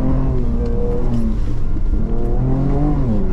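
An off-road vehicle on BFGoodrich KO3 tires revs hard on a dirt trail, its engine droning loud and close with a steady, rising and falling pitch throughout.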